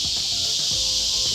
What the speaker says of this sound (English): Cicada season in Austin right now.